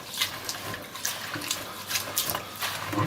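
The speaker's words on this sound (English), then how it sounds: "You wash it a couple of times," Rice being washed in a pot of water in a home kitchen, with steady close splashing and swishing as the grains are stirred and rinsed, rhythmic bursts repeating throughout and no talking.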